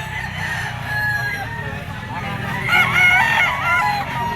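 A bull stag rooster crows at a pet market, its strained, warbling call rising over steady crowd murmur, with a louder crow swelling near the end.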